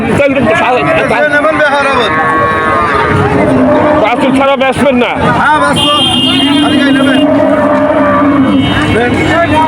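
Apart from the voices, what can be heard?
cow mooing at cattle market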